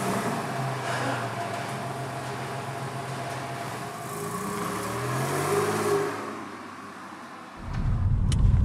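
Porsche 986 Boxster S on a road test after a suspension overhaul, its engine droning steadily and rising in pitch as it accelerates, with a louder low rumble surging near the end.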